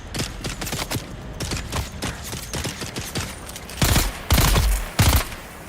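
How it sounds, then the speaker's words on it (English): Repeated rifle gunfire in the video game Dune Awakening, a rapid run of sharp close shots followed by three louder, heavier bursts near the end, with no talk. "I'm telling you, that's a good rifle."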